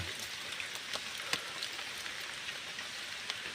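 Steady rain falling, a soft continuous patter with occasional sharper drops hitting a surface nearby.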